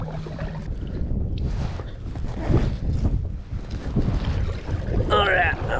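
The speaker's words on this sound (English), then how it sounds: "The wind is kicked up. It was not supposed to do that, but the wind is kicked up." Gusty wind buffets the microphone on a lake during kayak fishing from a Vibe Yellowfin 100 kayak. The rumble is loud and steady, with faint water movement underneath.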